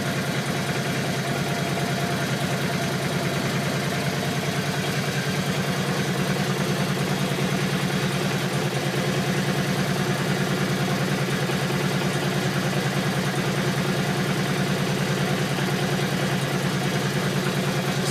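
A 1983 Yamaha Virago XV500 motorcycle engine runs steadily for the whole stretch, a close, loud and continuous idle with a little throttle added, no voices over it.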